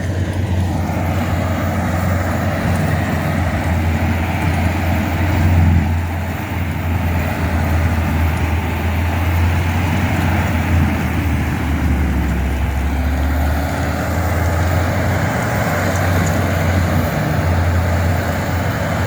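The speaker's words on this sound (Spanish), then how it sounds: "mira que este tractor debe tener 300 caballos, por lo menos 200 y pico, pero le da tiro" A large farm tractor of roughly 200 to 300 horsepower, clearing scrubland into pasture, runs with a steady deep engine drone and a continuous broadband roar that holds at a constant loud level throughout, with no talk.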